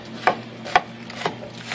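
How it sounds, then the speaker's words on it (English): A knife chops food for gyoza on a cutting board, four crisp, evenly spaced taps heard close up with no talking. "while I sit here and chop things"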